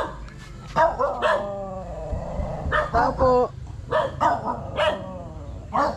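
A dog barks repeatedly in short, loud yelps close by, with a person talking over and between the barks.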